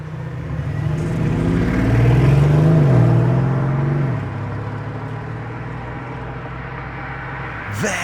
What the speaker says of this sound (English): just a few Urus SE driving around